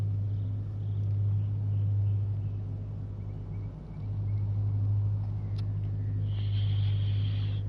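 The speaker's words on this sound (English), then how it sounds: "I love revving the nuts out of this car." Engine revving in Gran Turismo 7 on PlayStation 5 from the cockpit view: a steady, loud low drone holds throughout with a brief dip near the middle and a higher whine rising toward the end.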